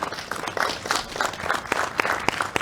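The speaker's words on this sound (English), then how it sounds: "Another round of applause." Audience applause at a September 11th World Trade Center remembrance ceremony, a steady round of clapping from a crowd with sharp individual claps standing out, moderately loud and lasting throughout.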